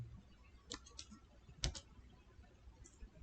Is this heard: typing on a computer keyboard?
yes